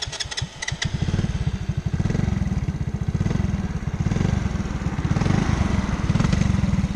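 A small scooter engine sputters to life after a few clicks using the choke, then settles into a steady, rapid putt-putt idle, loud and close.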